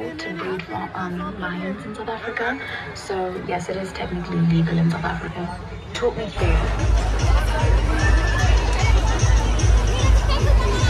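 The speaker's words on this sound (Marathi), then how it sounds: "श्रीगोंद्याच्या यात्रेत एवढी गर्दी आहे" Dense crowd at the Shri Sant Shekh Mohammad Maharaj fair in Shrigonda, a dusty outdoor gathering: steady babble of many voices with nearby talk, then a louder rumble of crowd and background music swelling in the second half.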